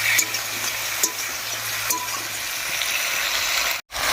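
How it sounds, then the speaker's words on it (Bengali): Loud, dense sizzling of flat beans frying in oil with turmeric and salt, with a few soft scraping stirs, then a brief cutoff near the end. "হলুদ, লবণ আর তেলের সঙ্গে শিমটা ভালো করে মিশিয়ে ভাজা ভাজা করে নেব"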